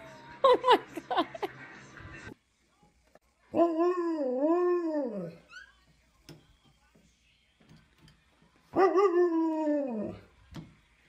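A dog gives a quick burst of yips, then two long, wavering howl-like barks with pauses between them, fairly close and moderately loud, with faint talk in the gaps.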